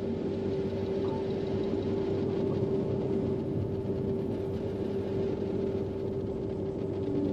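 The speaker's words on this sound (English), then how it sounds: "this ship idling sound is going to be changed based on ship class and race." A spaceship idling in the video game EVE Online, a constant low engine hum with a steady tonal drone running evenly and unbroken throughout, with no voices.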